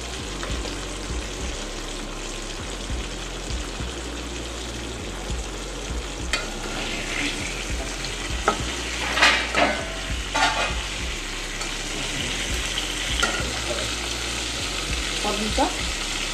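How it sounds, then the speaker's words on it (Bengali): Pointed gourd (potol) frying in a pan with salt and turmeric sizzles and crackles steadily at close range, with occasional stirring scrapes and clinks. "এই পটলগুলো লাল লাল ভাজা হলে আমি তুলে নেব"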